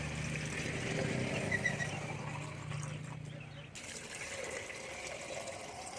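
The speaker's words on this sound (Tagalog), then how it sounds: "So, lagyan natin ng tubig." Water poured into chick feed, a continuous splashing trickle that is steady for several seconds, then quieter and thinner toward the end.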